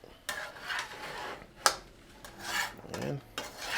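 Vegetables and garlic stirred and tossed in a pan, giving scraping, rasping strokes in uneven bursts at close range, with no one talking.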